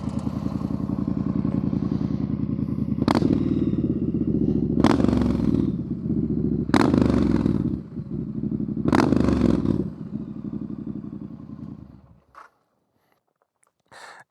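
A Triumph Street Scrambler motorcycle fitted with an aftermarket exhaust idles loud and close, with a steady rumble broken by four sharp throttle blips. The engine then cuts off into silence.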